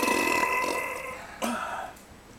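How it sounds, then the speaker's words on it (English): A long, loud burp rolls out after gulping from a can during a shotgunning attempt, followed by a second shorter belch, with no talk over it. "Just gotta burp it out."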